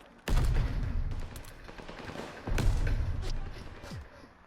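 LMG gunfire in a shooter game: two heavy booming bursts of fire a couple of seconds apart, each trailing off, near and moderately loud.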